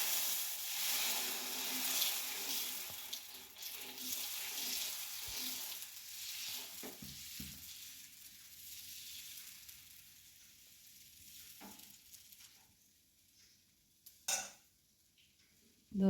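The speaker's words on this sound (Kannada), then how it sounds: "ದೋಸೆ ಹೊಯ್ಯುವ." Dosa batter poured onto a hot griddle oiled with coconut oil, a close, steady hiss that fades over time, with a few soft clicks and scrapes later.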